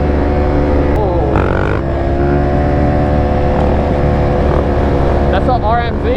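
A Suzuki RMZ dirt bike engine revs and roars loudly at close range, pitch climbing and falling through several sweeps, with excited voices shouting over it throughout.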